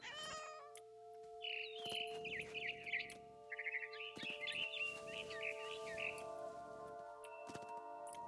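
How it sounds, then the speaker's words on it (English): A barn swallow chirps in the video game What Remains of Edith Finch, giving a string of bright, quick twittering calls over several seconds that ride above a steady musical drone, with a few thumps and a brief meow-like cry near the start. "I heard chirping outside my window. It was a barn swallow going back to her nest."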